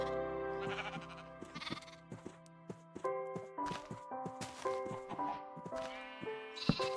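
Sheep in the video game Minecraft give a series of short, nasal bleats, several overlapping and irregularly spaced, over quiet background sounds, with no speech.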